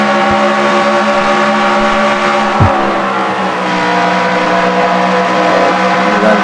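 A race car on the Kentucky oval in a 400-mile race, engine screaming at roughly 200 mph with a steady, loud, sustained drone that barely wavers, heard from on board the car.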